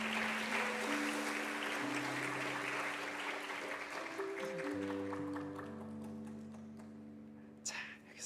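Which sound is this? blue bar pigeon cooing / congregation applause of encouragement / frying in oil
congregation applause of encouragement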